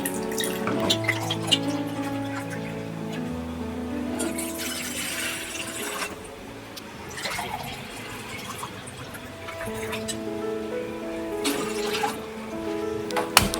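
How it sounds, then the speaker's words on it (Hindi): Water pours and trickles into a pan with splashing drips, while soft background music plays underneath. "पैन में हम डालेंगे ये 2 कप पानी,"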